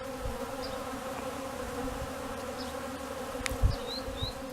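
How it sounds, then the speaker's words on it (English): Bees drone in a steady, close, continuous hum around a leaking garden hose in the desert, with a few brief louder passes as individuals fly near. "My hose was leaking a little bit, wasn't shut all the way off, and these bees come to it."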